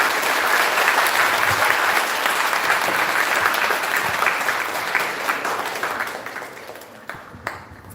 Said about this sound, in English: Let's welcome Jaya ma'am with a big round of applause.